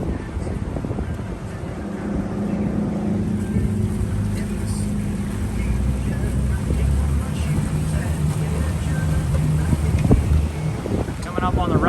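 A motorboat cruises slowly through a no wake zone in St. Augustine, Florida, its engine a steady low drone with wind buffeting the microphone throughout.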